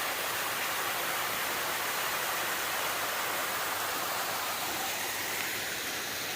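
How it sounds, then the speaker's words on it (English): Small waterfall on a mountain trail after overnight rain, a loud, steady, dense rush of falling water with no breaks and no voices. "And a beautiful little waterfall."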